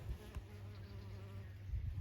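Bees hum steadily in a low drone around flowering poppies, agastaches and salvias, close and continuous, with a slight waver in pitch as they move about.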